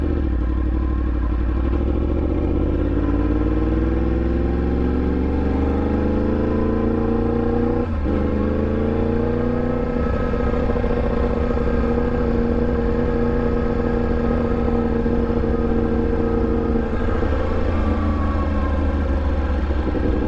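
A Yamaha MT10 motorcycle with an Austin Racing exhaust, heard from the saddle while riding: a loud, steady engine drone that climbs and drops with throttle and gear changes, continuous throughout.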